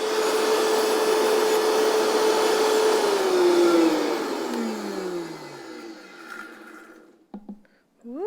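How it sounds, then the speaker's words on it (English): Blender whirring through pasta sauce, a loud steady motor drone that winds down in pitch and fades out after several seconds, followed by a few faint clicks and handling sounds. "So that's everything for the sauce. Let's get this blended."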